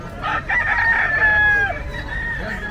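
A fighting rooster crows close and loud at a pet market in Bocaue, one drawn-out cock-a-doodle-doo over a busy background.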